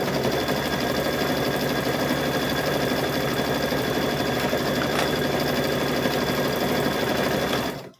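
A sewing machine runs steadily for about eight seconds while stitching a fabric fall table runner, with a dense, even whir at close range and an abrupt stop at the end.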